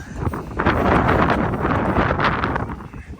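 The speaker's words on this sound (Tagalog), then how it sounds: "Mahangin ngayon." Wind gusts outdoors, buffeting the microphone with a loud, rough rumble that rises and falls for a few seconds.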